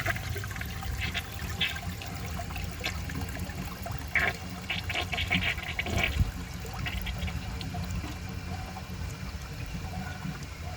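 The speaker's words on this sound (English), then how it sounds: "So it flushes, it goes down and it siphons, and then it refills the bowl back to the water line" A 1990 Peerless Concealed Jet toilet flushes and siphons, a steady rush of draining water with gurgles and bursts of splashing midway, then a lighter trickle as the bowl refills, with no voices.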